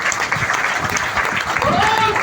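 Dense, loud audience clapping for student leaders at a Gujarat marketing company gathering, sustained and even throughout with some crowd murmur underneath.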